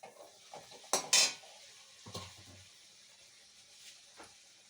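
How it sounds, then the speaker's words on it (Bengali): Luchi fry in hot oil in a home kitchen with a soft, steady sizzle, broken by a few sharp clinks and scrapes of a metal utensil against the pan. "এই যে গরম গরম লুচি ভাজছি"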